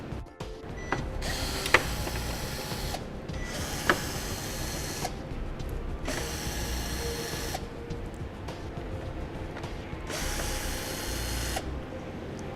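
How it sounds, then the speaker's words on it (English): Power tool removing Torx bit fasteners from the front fascia of a 2014 Chevrolet Equinox, several whirring bursts of a few seconds each with brief gaps, close and steady. "We'll remove the 4 Torx bit fasteners across the front fascia first."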